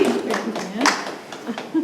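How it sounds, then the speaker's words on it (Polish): A brief burst of scattered hand clapping, a few people applauding unevenly for a couple of seconds at a Christmas ornament contest. "duże brawa dla Lilianki"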